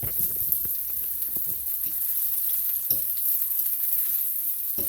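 Mushrooms and bread fry in olive oil in a pan, a loud continuous close sizzle with occasional stirring clicks and scrapes, no voices.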